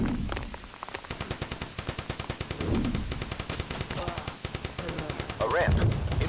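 Dense, rapid gunfire from the video game Cannon Fodder 3 rattles in continuous bursts, loud and close, with a few heavier blasts mixed in and voices heard in the background.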